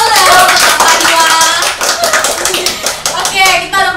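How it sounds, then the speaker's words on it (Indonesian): A group claps together during a chat among interns at Rumah BUMN Jakarta, a loud, dense patter of hands lasting a few seconds, with voices mixing in toward the end. "Oke, tepuk tangan dulu deh"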